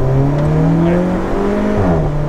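An Alfa Romeo 4C sports car's engine pulls hard under acceleration, a loud, steady droning roar heard from close by with a rising tone and one brief dip as the revs shift, no talking over it.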